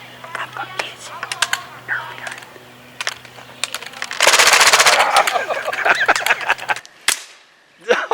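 A BB gun fires at a shish kabob stick in a backyard challenge, with sharp clicks and snaps amid excited voices talking and cheering, followed by a loud burst of noise.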